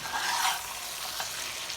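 Mutton and potatoes roast in a black pepper masala while being stirred, a dense, close hiss of sizzling with scraping strokes through the pan, brief and steady, no voices.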